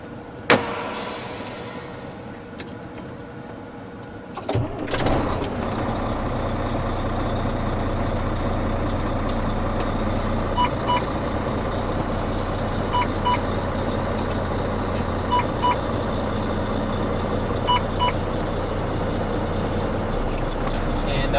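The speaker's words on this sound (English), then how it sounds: "I'm going to start the vehicle." A tractor-trailer truck's diesel engine cranks and catches during a pre-trip inspection, then settles into a steady, loud idle rumble with occasional clicks and faint beeps over the running engine.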